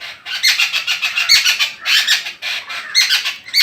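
A bird squawks repeatedly in loud, close, harsh bursts while driving a cat away outdoors, the calls coming in quick uneven clusters with brief gaps between them.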